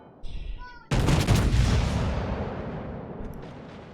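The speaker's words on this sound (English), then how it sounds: "to get a good salvo on him" A naval gun salvo booms in the World of Warships game, a sharp heavy blast followed by a long rolling decay, preceded by a brief small report and faint game tones.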